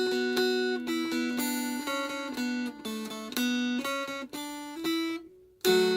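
A mountain dulcimer tuned DAD plays the melody of God Rest Ye Merry Gentlemen with embellishments, strummed across the strings in clear, ringing notes with a short pause before the final phrase.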